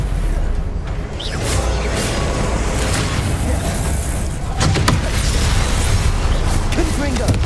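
Stupefy spell cast in Hogwarts Legacy during combat: repeated booming bursts and sharp magical cracks over a rumbling battle bed, with voices shouting amid the action.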